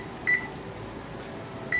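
An oven timer gives two short electronic beeps about a second and a half apart as it is set while baking single-serving chocolate chip cookies, clear over a faint room hum.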